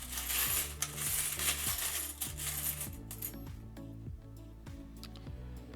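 Old pre-decimal coins, among them halfpennies, clink and jingle together as they are handled, giving rapid bright metallic taps close by, busier at first and then thinning to scattered clicks.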